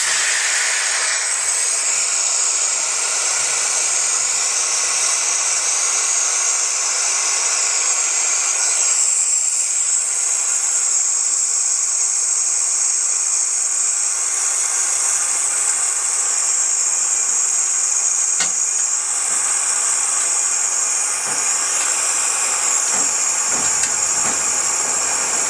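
A VEVOR 3-ton triple bag air jack vents air through its open exhaust valve, a loud continuous hiss that holds steadily for a long stretch, close and unbroken.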